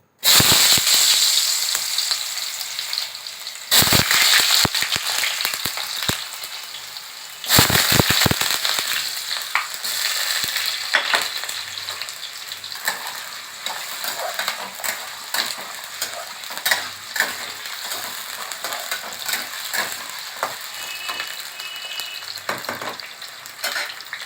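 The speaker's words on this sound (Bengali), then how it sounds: "এবার আলুগুলো ভেজে নেবো" Potatoes frying in oil in a kadai wok: a loud, steady sizzle runs throughout, broken by sharp clattering bursts of stirring and scraping, with no one speaking.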